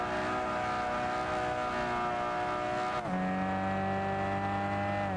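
A loud racing car engine in the video game Gran Turismo 6 roars steadily with dense harmonics, then drops pitch abruptly as it shifts gear, continuing at a lower drone.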